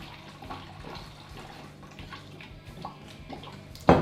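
Rum at 50 percent alcohol pours into a jar in a soft, faint, continuous trickle, ending with a sudden louder splash.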